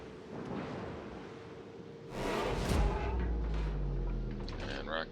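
A naval gun salvo in a warship video game, the ship named Baltimore, bursts as a loud, booming blast with a rolling rumble that lingers for a few seconds, with a voice talking in the background.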